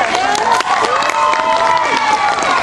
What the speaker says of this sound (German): Applaus für die liebe Jazz